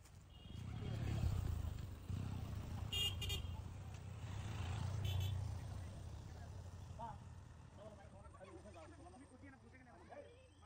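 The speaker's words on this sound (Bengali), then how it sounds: "বাইক আসতেছে, সাইড আউট" A motorbike approaches on a busy road, its engine rumbling loud and close with a few short horn toots among the traffic, while people talk throughout.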